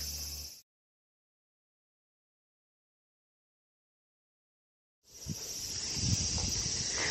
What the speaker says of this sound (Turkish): Ağustos böceklerinin sesini duyuyorsanız yakında duyamayacaksınız.